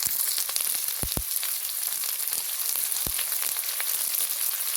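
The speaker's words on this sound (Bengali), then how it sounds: "সেই লঙ্কাটাও এখন এই পেঁয়াজের মধ্যে দিয়ে খুব ভালো করে ভেজে নিচ্ছে" Chopped onion and whole green chillies fry in a pan with a steady, close hiss of sizzling oil. A few sharp taps from stirring break through it, and nobody speaks.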